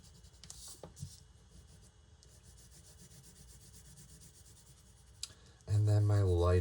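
Pencil or colored pencil shaded very lightly across paper gives a faint, steady soft rubbing with a few small taps, then a louder burst of voice-like noise at the end.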